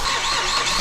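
A 2008 Mazda CX-7 engine, under repair for a persistent EGR fault, cranks and fires in a short, steady, loud burst of broad engine noise with no pauses and no voices.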